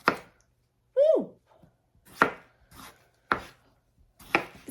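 A knife chops an onion on a board in several sharp, separate strikes a second or so apart, close by, with a brief vocal exclamation in between.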